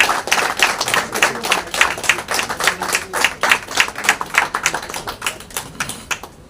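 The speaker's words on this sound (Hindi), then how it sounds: "कृपया जोरदार तालियों से स्वागत करें।" An audience at a Hindi-language event welcomes a guest with loud, brisk applause, dense rhythmic clapping that swells and pulses steadily, then cuts off at the end.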